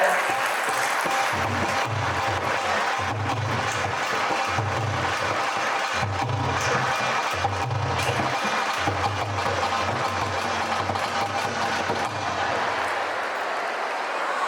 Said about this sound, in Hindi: सभी से निवेदन है सर के लिए जोरदार तालियां उनके आगमन पे